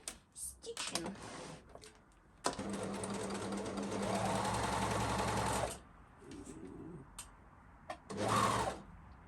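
A sewing machine stitches seams on DIY lace panties made from the Lacora underwear pattern, running in a steady buzzing burst of several seconds between short start-stop runs and handling noises, close to the microphone.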